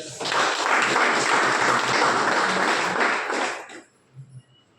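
An audience at an Asclepius Wellness business seminar bursts into dense, loud applause that holds for about three and a half seconds before cutting off, followed by a couple of faint, scattered sounds.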